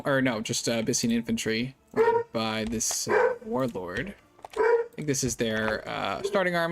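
Dogs bark and whimper in the background of a room while someone talks through a turn-based strategy game, the yips and whines sitting faintly beneath his steady speech.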